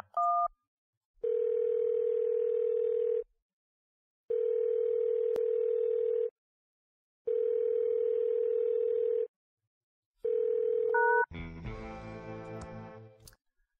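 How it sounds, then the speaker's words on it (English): A telephone dial tone in the Thimbleweed Park PC adventure game plays as four long, steady tones separated by short silences, then brief touch-tone dialing beeps lead into a fuller, busier sound. "let's make a phone call then"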